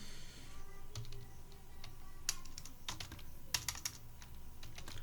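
Keys clatter on a computer keyboard in short irregular bursts with pauses between them, as a name is typed into accounting software. The taps are close and fairly quiet, with no voices over them.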